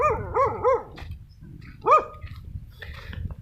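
A dog barks three times in quick succession, pauses, then gives one more loud bark, with a softer yelp-like sound trailing after.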